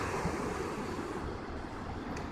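Ocean surf at Isle of Palms Beach washes in as a steady broadband roar, with wind buffeting the microphone, continuous and fairly loud throughout.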